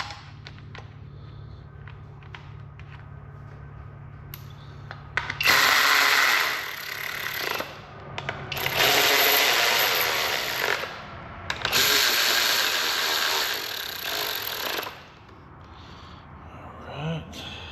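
A power tool drives screws back in during final assembly of a Ford 3.5 EcoBoost engine, in three loud, close bursts of whirring a few seconds each, with a quieter hum and small mechanical clicks between them.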